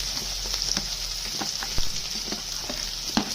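Onion sautés in a pan for egg pohe, giving a steady hissing sizzle with scattered sharp scrapes and taps from stirring, close up and alone.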